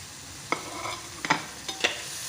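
Tomato sautés in a pan for macaroni, with a soft steady sizzle under a few distinct spoon scrapes and clinks spaced through the short stretch.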